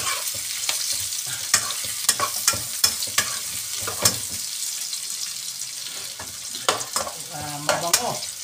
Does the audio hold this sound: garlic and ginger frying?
yes